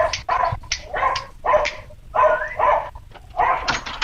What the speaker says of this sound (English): I didn't know William had the dogs